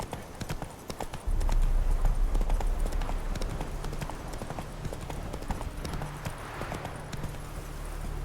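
Horse hooves clip-clop steadily while riding in The Witcher 3. The hoofbeats are close and loud over a low rumble that swells after the first second, and the rhythm stays even throughout.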